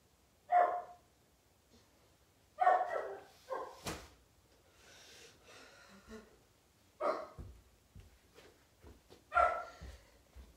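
Dogs bark in several separate bursts, single and double woofs with short pauses between them, fairly close and loud against a quiet room, with a few soft whimpers and knocks in the gaps.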